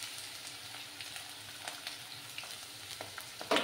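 Ginger and potatoes fry in a pan for a mixed vegetable dish, giving a soft, steady sizzle with faint clicks of stirring and a louder scrape near the end.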